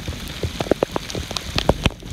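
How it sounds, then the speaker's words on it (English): Heavy rain pours down during a lap of Lake Lanier, with a dense hiss and irregular loud drops splattering on a nearby surface. "Torrential downpour."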